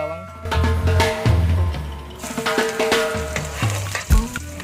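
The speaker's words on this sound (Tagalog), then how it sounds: "Maglagay tayo ng mantika. Unahin natin yung bawang." Garlic sizzling in hot cooking oil in a pan, a steady frying hiss with stirring clatter throughout, fairly loud and close, no talk.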